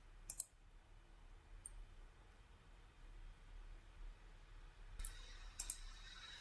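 Computer mouse clicks, sharp and close, come as a quick double click at the start, a single click soon after and another pair near the end, over near silence.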